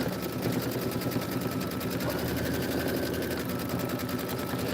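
An embroidery sewing machine stitches a Kimberbell Home Sewn design, its needle hammering in a fast, steady, continuous rhythm close up with no pauses.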